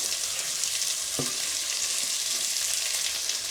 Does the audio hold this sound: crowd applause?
no